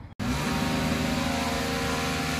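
Lawn mowing by neighbors carries in from outside as a steady mid-pitched engine drone that holds throughout, heard from some distance after a short gap at the start, with no one talking.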